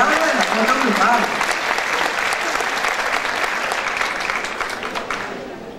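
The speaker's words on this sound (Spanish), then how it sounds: "un aplauso, creo, sí, para esas siete creo, mujeres" Audience applause at the ExpoCundinamarca 2018 awards event for seven women winners, loud and sustained, briefly overlapping a voice at the start, then gradually tapering.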